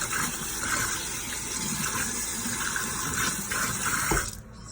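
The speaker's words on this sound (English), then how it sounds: "Forgive the sound of the water." Tap water runs steadily into a kitchen sink, splashing as a spatula coated in mayo is rinsed, then cuts off abruptly near the end.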